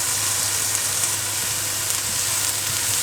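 Bell pepper and carrot fry in a pan over high heat, giving a steady, close, loud sizzle throughout with faint stirring.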